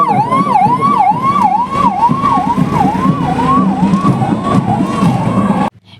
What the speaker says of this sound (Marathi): ॲम्ब्युलन्स 108 नागरिकांना तात्काळ मदत देण्याकरता सामान्य रुग्णालयाची रुग्णवाहिका काम करते